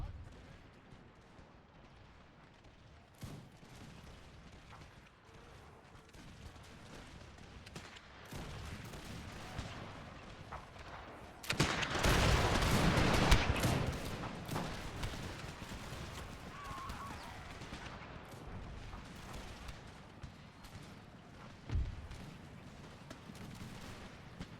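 Cannon fire in a Napoleonic-era Empire Total War mod battle: a broad, heavy burst of booming gunfire swells in the middle, over a steady low rumble of distant musketry and battle noise, with a few scattered sharper shots on either side.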